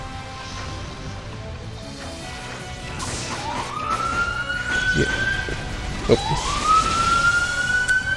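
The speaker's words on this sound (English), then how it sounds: "Just sirens outside." Police sirens pass outside, a wailing tone sweeping up twice and growing louder as the car goes by, heard indoors under game sounds with a brief thump and a short spoken word.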